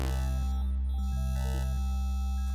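Synthesizer saw wave run through a sift effect, heard as a steady, buzzy sustained tone whose low notes shift in pitch every half second or so. It plays alone at a fairly quiet level.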